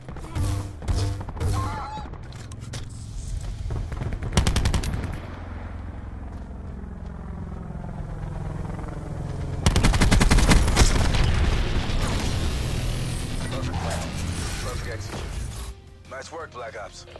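Gunfire in the Black Ops 4 video game, a busy team deathmatch firefight with bursts of shots and crashing impacts across the whole stretch, loudest in the later half, with people talking over it.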